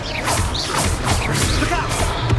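Confringo blasting spell cast during Hogwarts Legacy combat, a dense rushing burst of crashing and whooshing impacts that stays loud for the whole moment.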